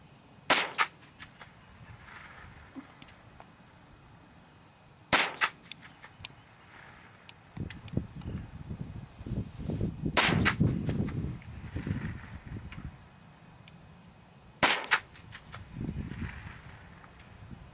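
.22LR rifle firing at a long-range target outdoors, four sharp, well-spaced cracks standing out over quiet background rustle and faint movement.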